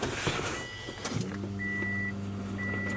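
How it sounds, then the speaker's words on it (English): An aftermarket AEM fuel pump in a 2006 Subaru WRX primes as the key is cycled. After a short clatter, a steady low electric hum sets in, with a thin high whine cutting in and out over it. "Oh, listen to that pump right there."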